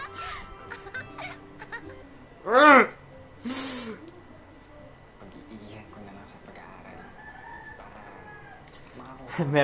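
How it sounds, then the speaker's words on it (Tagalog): A rooster crows in the background, one clear rising crow partway through, with a shorter second call right after, under steady women's chatter. "May manok na naman sa background."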